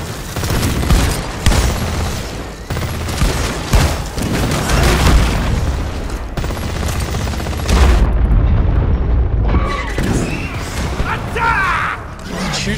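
High-velocity grenade launcher rounds exploding in the co-op shooter Deep Rock Galactic, repeated heavy booms and gunfire layered densely throughout, with players talking over the blasts.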